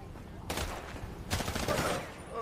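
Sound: police gunfire in video game GTA roleplay

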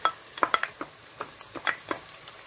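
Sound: ginger and garlic stirred into frying onions

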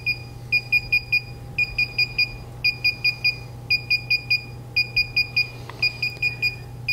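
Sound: drone remote controller beeping during firmware update

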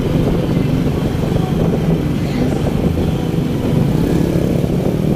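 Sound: motorbike ridden along a riverside road

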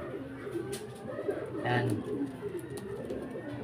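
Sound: racing pigeons cooing

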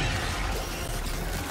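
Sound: weapon reloading in video game Helldivers 2

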